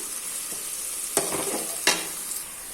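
Crushed garlic and ginger sauté in a hot pan, a soft steady sizzle broken by two sharper stirring scrapes, close and alone without any voices.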